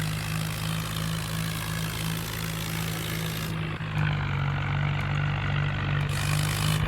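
A Swaraj tractor engine in a farming video game, a steady droning motor hum held at constant pitch with a brief dip midway, close and unbroken, with no talking.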